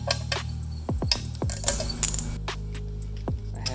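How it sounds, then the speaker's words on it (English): Old hand ratchet set clicking as it tightens timing cover bolts on a 1995 Crownline boat's 5.7 Mercruiser engine, with several short bursts of metallic ratchet clicks and small clanks, close and fairly loud over a steady low hum. "This is my Grandpa Tom's ratchet set, so kind of cool, kind of fun to use something old"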